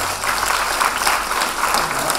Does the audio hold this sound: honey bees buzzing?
no